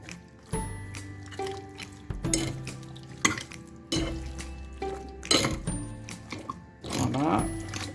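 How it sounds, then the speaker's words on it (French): A utensil scraping and clanking against a pan while sautéed potatoes and chicken wings are stirred, with several separate bursts of metallic clinks and scrapes and quieter gaps between them. "On remue même bien pour qu'il y ait tout qui se mélange"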